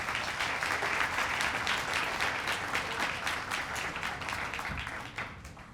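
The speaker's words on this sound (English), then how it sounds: "So how about a big hand for Richard Roberts?" A gala audience applauds for Richard Roberts with a steady, full round of clapping that fills the room evenly throughout and eases off slightly at the end.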